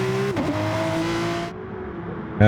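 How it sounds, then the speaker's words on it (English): A Porsche race car in Gran Turismo Sport slowing into the pits, with a steady engine drone shifting pitch, then easing off before a sudden loud burst at the end, with no one speaking. "it looks like Lee is peeling off into the pits"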